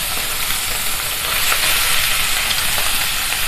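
Spice-coated mourola fish sizzles loudly in hot oil in a pan, a steady, bright, crackling hiss that stays close and constant throughout with no talking.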